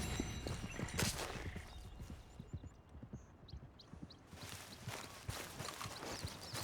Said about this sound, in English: ¿Este caballo de quién es?